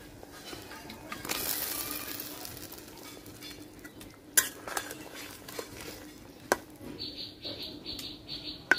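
Fried potatoes stirred into a mango and rui fish curry, with a spoon clinking and scraping against the pot in scattered sharp knocks, and faint bird chirps in the background.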